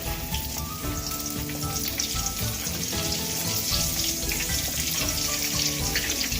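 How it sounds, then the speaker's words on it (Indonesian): Pot of water heating to a boil with salt for kolak biji salak (glutinous rice balls with durian flavour), giving a steady, close broadband bubbling hiss throughout, with background music underneath. "Kita panaskan sampai mendidih, lalu kita tambahkan setengah sendok teh garam."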